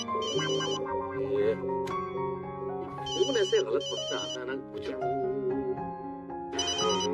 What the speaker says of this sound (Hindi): आ गया मेरे बॉस का फोन।